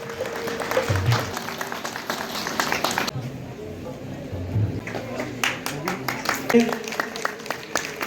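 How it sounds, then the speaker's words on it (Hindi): Audience applause greets a guest invited on stage at a Jagran event in Damnote, Udhampur, a dense patter of claps rising and falling over about eight seconds, with crowd noise and voices mixed in throughout. "कृपया जोरदार तालियों के साथ इनका अभिनंदन करेंगे"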